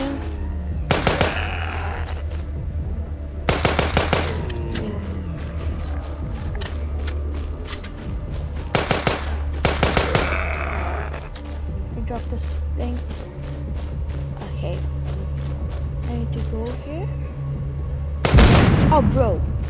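Gunfire in the video game The Walking Dead sounds as repeated loud bursts of shots, with a player talking over the game's ambient noise between them.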